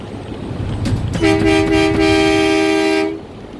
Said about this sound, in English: I'm out here sounding the horn for all you truckers out there